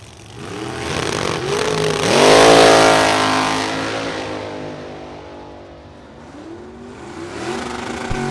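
A high-horsepower Pro-Charged dragster engine at the drag strip in Rockford, Illinois revs hard against its rev limiter, a loud rising roar that peaks, holds, then falls away before climbing again, heard close with rapid stuttering pitch sweeps.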